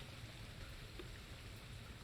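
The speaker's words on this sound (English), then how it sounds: "The light rain begins to fall." Light rain falling as a played sound effect during a Greyhawk tabletop game session, a faint, steady hiss of drizzle with soft patter and no voices.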